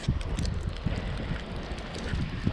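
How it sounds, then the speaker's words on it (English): Strong wind buffets the microphone during an ice storm at a cottage, with mixed ice pellets, producing a continuous low rumble with irregular gusty thumps close up. "the wind's really starting to pick up now"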